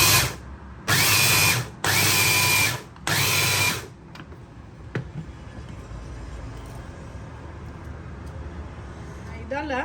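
A mixer grinder coarsely grinds in three short, loud bursts separated by brief pauses, followed by quieter kitchen background with faint clatter.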